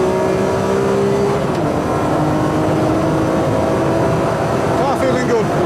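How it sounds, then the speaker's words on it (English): An onboard race car engine at Cadwell Park circuit roars loud and close at around 125 mph in fifth gear, with a sustained high-rev drone, a gear change partway through and a driver talking over it. "Car feeling good. Fifth gear, 125 miles an hour."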